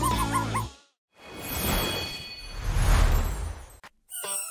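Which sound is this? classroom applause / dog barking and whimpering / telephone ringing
dog barking and whimpering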